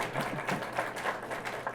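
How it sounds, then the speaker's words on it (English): Applause from an audience at a township address, honoring a state senator; steady dense clapping fills the short stretch at moderate level, with no clear voices over it. "You can clap for Mary."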